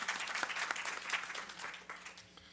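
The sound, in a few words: audience applause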